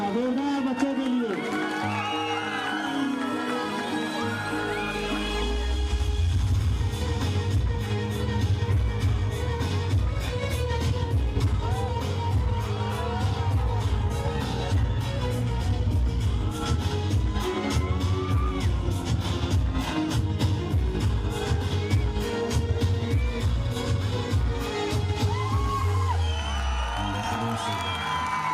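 An audience cheers and applauds a pyramid skit performed by primary school children, a loud, sustained crowd noise mixed with whoops and music, with voices throughout.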